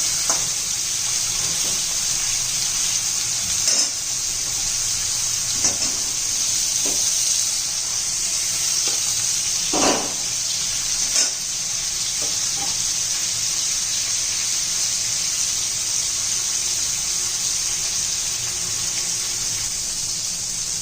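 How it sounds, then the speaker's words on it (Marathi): Vam fish coated in ginger garlic paste frying in a pan for a fish curry, giving a steady close hiss of sizzling oil with a few soft clicks and pops, no voices. "आलं लसूण पेस्ट लावून ठेवले होते आपण अर्धा तास ते आता थोडे फ्राय करून घेऊया"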